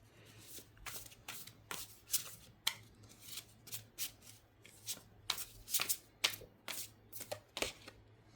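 Tarot cards shuffled by hand in a quiet room: a steady run of crisp riffling bursts and soft slaps, repeating about every half second, close and fairly faint over a low hum.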